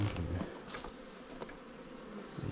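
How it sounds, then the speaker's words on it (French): A honeybee swarm buzzes around a beekeeper, a continuous close insect drone with steady low hum and occasional louder passes near the listener, no talking. "ce sont les essaims qui courent après moi"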